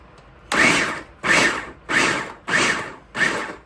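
Food processor pulsing smoked herring to crush the bones: five short, loud whirring bursts at an even rhythm, each about half a second long and separated by brief pauses, with no talk.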